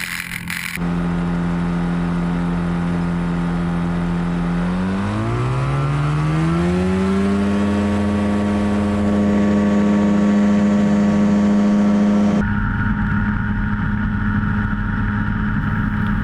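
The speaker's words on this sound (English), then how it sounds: "You will notice the 400 gets off the ground a lot quicker than the GT500." Quicksilver GT400 ultralight aircraft engine at takeoff power, a loud, steady droning buzz close by whose pitch dips and then climbs as the plane accelerates down the runway and lifts off.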